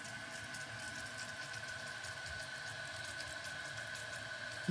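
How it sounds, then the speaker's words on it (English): A toilet tank refills with water after a fill valve repair, giving a steady, faint hiss of running water that holds evenly throughout with no talk. "Now I cut on the water. I'm letting it fill up."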